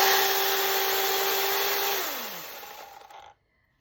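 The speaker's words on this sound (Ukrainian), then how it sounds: "акумуляторна пила від бренду ProCraft ПКА 38 має 30-ку шину, АБС пластик, безщітковий двигун" A PROCRAFT PKA38 cordless chainsaw with a brushless motor and 30 cm bar whirs loudly at a steady high pitch nearby, then winds down and stops, with no talking.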